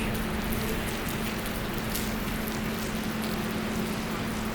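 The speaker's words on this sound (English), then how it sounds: "So the rain's so bad now." Heavy, windy rain pours down in a steady, unbroken hiss, with dense patter filling the background and no pauses or voices.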